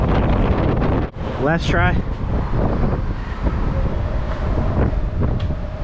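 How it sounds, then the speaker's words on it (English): Strong wind buffets the microphone outdoors on a Las Vegas street, a steady roaring rush throughout, with a brief break and a short spoken phrase partway through. "Dang, that wind is really blowing."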